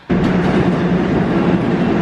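A New York City subway train roars in suddenly and keeps up a loud, steady rumbling drone with a low hum, close and continuous, with no voices.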